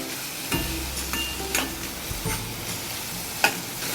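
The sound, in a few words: onion and tomato sizzling while sautéing in pan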